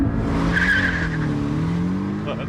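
A 300-horsepower Porsche Cayman launches hard from a standing start, its engine roaring loud and close as the pitch climbs steadily, with a brief tire chirp early on.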